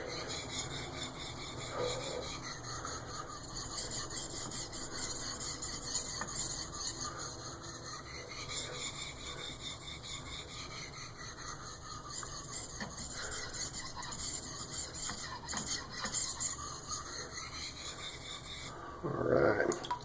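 A CPM M4 steel knife edge rasps steadily on a sharpening stone in long, continuous grinding strokes, fairly close and consistent, with a brief louder scrape at the end.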